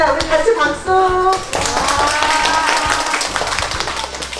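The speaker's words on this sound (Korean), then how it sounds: "우리 같이 박수." Children and a teacher at the close of an eco-garden class clap together, a lively burst of many hands starting after a short spoken line and continuing unevenly at close range, gradually thinning toward the end.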